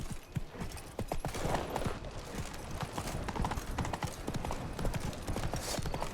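Hooves of Roach, Geralt's horse in The Witcher 3: Wild Hunt, pound in a steady clip-clop rhythm as the horse gallops, close and continuous, with occasional game sounds underneath.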